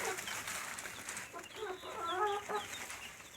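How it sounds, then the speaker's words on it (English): Guinea fowl in a coop make a burst of clucking and chattering calls, moderately close, rising and falling over steady background noise with no talking. "Over here, where the chicks used to be, is our guinea geese."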